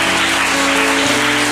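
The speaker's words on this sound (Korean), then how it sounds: "이럴 땐 우리 박수 치고 합시다" A church congregation at a Korean Sunday worship service applauds together, a dense, steady wash of clapping filling the room for a brief stretch with no voices over it.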